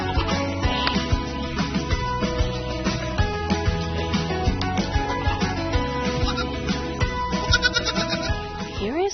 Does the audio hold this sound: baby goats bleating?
yes